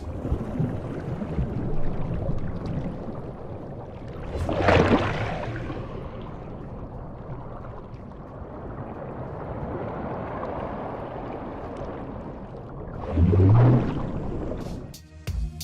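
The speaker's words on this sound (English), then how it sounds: "it's just the sound of the water and the voices of the animals" Ocean water heard up close, with a continuous wash of sloshing water and two louder surging swells rising and falling.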